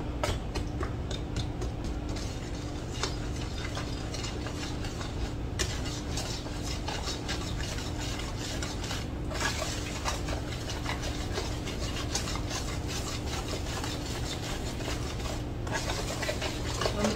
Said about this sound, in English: And then I'm just going to mix this up.